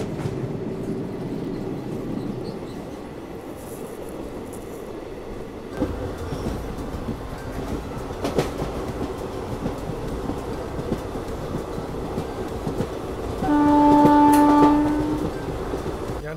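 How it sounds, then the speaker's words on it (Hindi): The Himsagar Express passenger train pulls out of Kayankulam Junction in Kerala, with a steady rolling rumble and clattering wheels over the rails, then a loud sustained horn blast near the end. "और अपनी ट्रेन अभी कायनकुलम जंक्शन से निकल रही है दोस्तों।"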